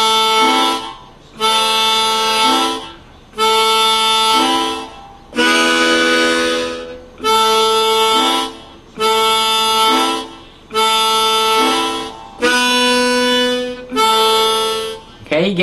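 Harmonic minor harmonica playing chords on holes 1-4 in a repeating pattern, nine sustained reedy chord blasts of roughly a second each separated by short breaths, loud and close with no talk.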